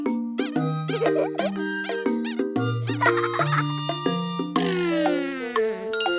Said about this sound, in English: A rubber duck.